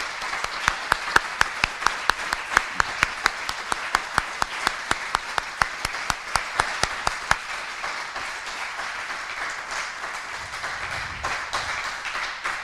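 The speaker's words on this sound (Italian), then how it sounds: "si può fare un applauso a queste persone" Audience applause at a Catholic Action conference in Trentino, Italy: a crowd claps in a steady, fairly close rhythm for about seven seconds, then the clapping thins into a softer, more scattered patter toward the end.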